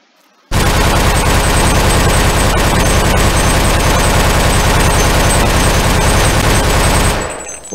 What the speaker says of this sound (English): so let's try a pistol out